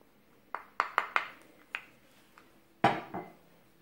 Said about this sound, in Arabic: وغنبدا كنخلط كلشي